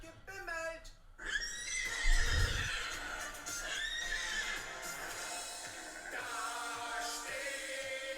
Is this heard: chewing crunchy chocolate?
no